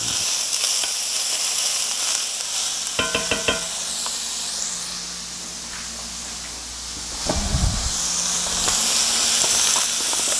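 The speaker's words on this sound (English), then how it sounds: "By all means, it's nice and sizzling. Put the onions in." Onions hiss and sizzle in hot olive oil in a pan on a stove, a steady, close frying crackle with a few clattering stirs partway through.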